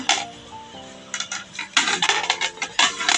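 Steel plates from a silverware shop clatter and clink against each other in quick irregular bursts, close and fairly loud, with a ringing metallic tone lingering between knocks.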